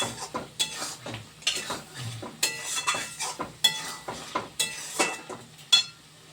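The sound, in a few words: stirring fried eggs into egg curry in a pan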